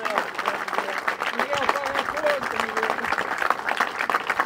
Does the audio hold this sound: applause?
yes